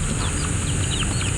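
Hungry chickens cluck in short repeated calls while being fed, close by and steady over a constant background hum.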